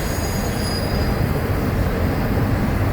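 An FEC freight train loaded with UPS containers rolls steadily past, close and loud, with a continuous rumble of wheels on rail and a faint high squeal running throughout.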